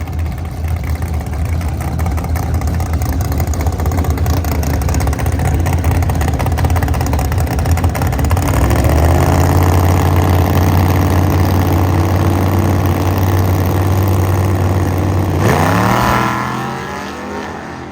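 A drag-racing truck fitted with a Da Vinci carburetor, MSD distributor, MSD coil and 7AL-2 box makes a loud, constant engine drone that deepens and strengthens midway, then gives a sharp final rev before fading away.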